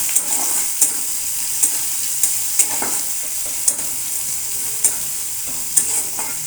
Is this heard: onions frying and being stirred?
yes